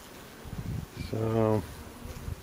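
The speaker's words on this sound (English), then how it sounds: "There's a few bees up there, not very many at all, collecting sugar water on this thing" Honeybees at a hive box, a few of them taking sugar water from a feeder, give a steady, harmonic buzz that swells close up for about half a second between brief bits of low talk.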